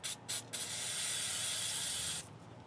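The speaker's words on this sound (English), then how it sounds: "I'm just gonna hit this motherfucker with some brake clean." Brake cleaner sprays onto the caliper of a 2003 Chevy Silverado during a front brake job, two short bursts followed by a long steady hissing spray, close and loud, with no talking.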